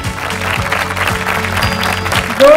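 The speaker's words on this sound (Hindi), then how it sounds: "जोरदार तालियों के साथ हमारे मुख्य अतिथि माननीय मंत्री महोदय डॉक्टर महेंद्र भाई मुंजापारा" Applause from an audience greeting the chief guest, a minister, at a Naturopathy Day event, steady and moderately loud throughout, with faint tonal music underneath and a brief louder burst at the end.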